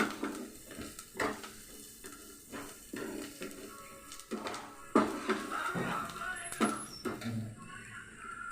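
Onions browning in a pan for egg bhurji, with a soft sizzle under repeated stirring scrapes and utensil knocks against the pan, plus a few brief voices.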